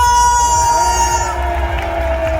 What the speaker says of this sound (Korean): 이 시대의 최고의 선지자 정강훈 목사님께 여러분 큰 박수 한번 올립시다